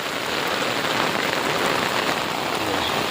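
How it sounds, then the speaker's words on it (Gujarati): Heavy monsoon downpour in Gujarat, a dense, steady roar of rain pounding on surfaces, close and continuous with no break. "એકદમ ધબધબાટે બોલાવે છે વરસાદ"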